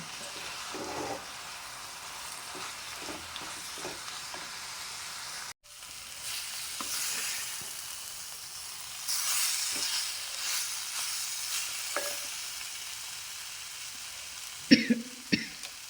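Coriander powder and slit green chilies sizzle in a pan for an ash gourd curry as they are stirred: a soft, steady hiss broken by light scraping clicks, ending in a sharper clatter.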